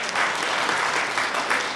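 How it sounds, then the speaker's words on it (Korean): A church congregation claps for the Sunday service accompanist, a short, steady burst of applause from many hands in a large room. "박수 한번 쳐주겠습니다."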